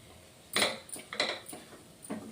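A few clinking scrapes of a spoon against a metal vessel as mint chutney is moved into a bowl, close and irregular.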